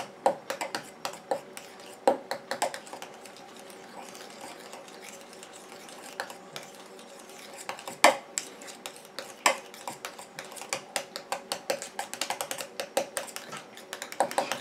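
A coconut and monoi body cream mixture is stirred in a container with a utensil, producing a rapid series of close, light clicks and taps that speed up toward the end.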